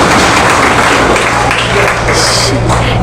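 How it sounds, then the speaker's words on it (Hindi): An audience at a Brahma Kumaris Rajyoga meditation session bangs on benches instead of clapping, producing a loud, continuous dense clatter with a low droning thump underneath that persists without pause for the whole stretch. "और जिन्होंने बेंच बजाई है"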